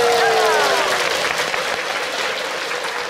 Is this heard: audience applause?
yes